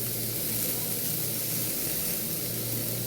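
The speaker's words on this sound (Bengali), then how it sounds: "এটা ভালো করে একটু আমি সয়াবিনটাকে ভেজে নেব" Soaked soybean chunks frying in a pan give off a steady, loud hiss and sizzle that stays constant throughout, with no talking.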